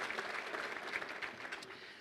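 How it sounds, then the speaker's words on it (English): An audience at a hospice benefit event applauds in a brief, fairly quiet wash of steady clapping that eases off slightly at the end. "Let's give him a round of applause"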